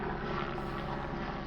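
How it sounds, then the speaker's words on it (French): Helicopter heard from the ground as a steady, muffled rotor drone, moderately faint and continuous for a brief moment, with no speech over it. "ça c'est un hélicoptère."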